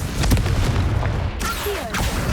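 Confringo blasting spell in Hogwarts Legacy, a loud booming explosion with deep rumble, followed by quick whooshing bursts and a second sharp blast near the end; no talk.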